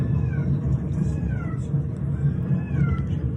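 A cat gives about four drawn-out, wavering meows, each rising and then falling in pitch, over a constant low rumble.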